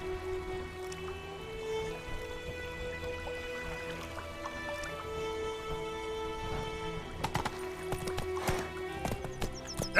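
A horse in The Witcher 3: Wild Hunt moving along under tonal game music, its hoofbeats clip-clopping steadily, with a snort or whinny and a sharp burst of sound near the end.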